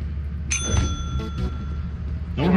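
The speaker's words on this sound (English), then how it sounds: "go ring the bell" Bell rung in the video game Lethal Company, a bright ringing ding with sustained tones over a loud game background hum, followed by a couple more softer strikes and a voice near the end.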